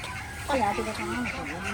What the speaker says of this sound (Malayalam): ടർക്കി